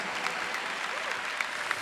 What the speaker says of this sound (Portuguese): Vamos aplaudir o nosso Pai, o nosso Deus.